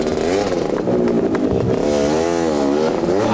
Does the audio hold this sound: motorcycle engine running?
yes